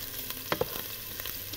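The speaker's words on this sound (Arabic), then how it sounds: "اوكي طبعا بنقلبهم. اذا اول شيء حطينا البصل والثوم" Onion and garlic fry in a pan for mandi, a close crackling sizzle punctuated by a few sharp spatula knocks and scrapes as they are stirred, with no voices.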